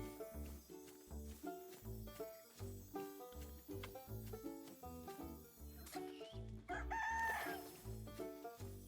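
A bird crows once in the video game Luma Island, a short rising call near the end over steady, bouncy game music.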